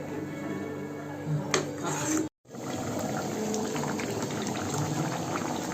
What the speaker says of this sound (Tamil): இந்த கொதிக்குது.